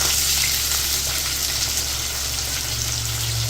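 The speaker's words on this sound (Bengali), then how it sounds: "ঝিঙেগুলো ছাড়ার আগে একটু আলুগুলো নেড়ে নেবো তেলে" Potatoes frying in oil before ridge gourd goes in, a dense, even sizzle and hiss close by with soft stirring underneath, steady throughout with no talking.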